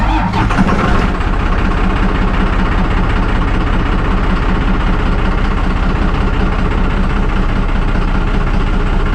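A diesel engine cranks briefly, then catches and keeps running roughly, its loud, uneven, low idle churning steadily with no talk.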